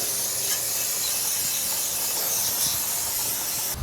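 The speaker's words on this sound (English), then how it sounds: "I'm going to use AMSOIL's brake parts cleaner again" AMSOIL brake parts cleaner sprayed onto a brake rotor of a 2008 Hyundai Elantra 2.0L, a loud, close, continuous aerosol hiss held steady for several seconds without pauses or speech.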